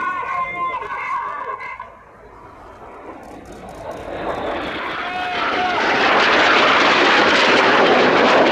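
Red Arrows jets in a flying display at the Royal International Air Tattoo, a loud roaring jet rush swelling from a distant rumble to a close, sustained blast, with commentary over the public address heard earlier.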